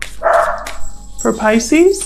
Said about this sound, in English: I'm sorry about my dogs. I think there's somebody outside.